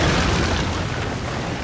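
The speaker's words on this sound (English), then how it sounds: "The defenders will actually have artillery mounted on the coast that they can use to bombard the attacking ships" Coastal artillery bombarding ships in Shogun 2: Fall of the Samurai, a dense, continuous rumbling barrage of booms, loud and close, with no pauses between blasts.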